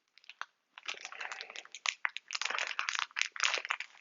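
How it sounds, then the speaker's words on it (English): Plastic bag being opened during a board game unboxing, with a dense run of crinkling and crunching rustles close up, starting after a brief pause and continuing in bursts for several seconds. "If I can open a plastic bag, that would be handy."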